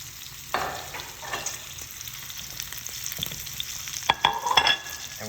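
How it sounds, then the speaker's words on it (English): Shishito peppers blistering in a hot pan give a steady low sizzle, with brief louder crackles and stirring scrapes toward the end. "we want to make sure that my peppers are evenly roasted all the way over the top"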